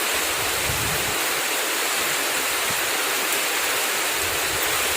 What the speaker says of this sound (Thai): ฝนตก ลม มีลมด้วยทุกคน